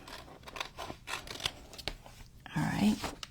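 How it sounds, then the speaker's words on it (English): Scissors snip through a paper pharmacy bag in a few quick, close cuts, with a soft rustle of paper as it is handled. "I am going to cut it to start."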